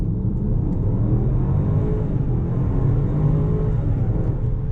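A Range Rover Supercharged launches and pulls hard, a loud, steady engine rumble and drone heard from inside the cabin without letup.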